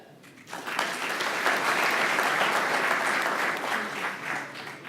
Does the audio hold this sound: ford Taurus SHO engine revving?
no